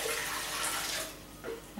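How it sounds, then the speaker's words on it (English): Water pours from a tap into the pan of a bread maker, a soft, steady splashing rush lasting about a second before it tapers off, heard close and alone. "Let's put the water in."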